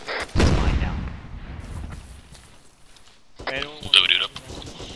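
Video-game gunfire and a grenade-style blast ring out in a street fight, starting with a loud sharp burst that decays into rumble, then a fresh cluster of shots and impacts near the end, with voices talking over parts of it.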